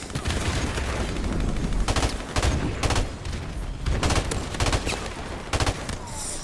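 An M16 rifle fires in Modern Warfare Remastered, loud and close, in short repeated bursts with brief gaps between them, about eight volleys spread evenly over several seconds.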